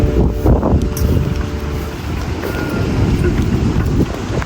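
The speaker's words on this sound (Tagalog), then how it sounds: "sobrang lakas ng hangin eh" Very strong wind roars across the microphone outdoors on a gusty day for flying kites, loud and continuous low buffeting with surging gusts.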